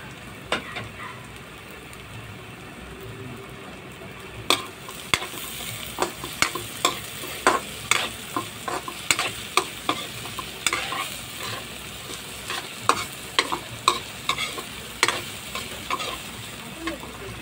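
Ginger sizzles as it is stir-fried in a pan for pork-offal bopis, a constant frying hiss broken by repeated scraping strokes that start a few seconds in and come at an uneven, busy rhythm.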